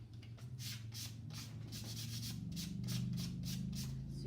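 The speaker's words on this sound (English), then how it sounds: "So you just want to lightly sand to bring a little bit of that stain through" Light hand sanding of stained pine boards produces rhythmic, soft rubbing strokes at a steady back-and-forth pace, close and fairly quiet, with no talking.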